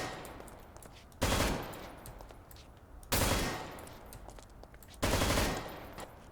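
Three heavy bursts of automatic gunfire from customizable weapons in Garry's Mod, each a loud sustained volley of roughly half a second, spaced about two seconds apart over a low background hum.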